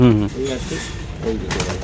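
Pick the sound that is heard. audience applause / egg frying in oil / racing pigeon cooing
racing pigeon cooing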